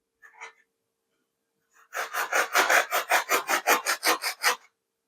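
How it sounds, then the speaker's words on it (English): Sanding strokes rasp across the wooden vertical fin of a giant scale P-47 Razorback model, a brief scrape followed by a steady run of about twelve rhythmic back-and-forth passes, close and fairly loud. "making sure I'm sanding this evenly"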